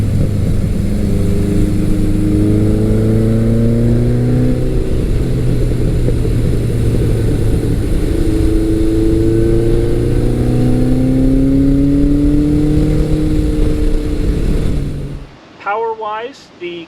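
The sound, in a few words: motorcycle engine revving, Kawasaki KZ1000 or Suzuki GS1100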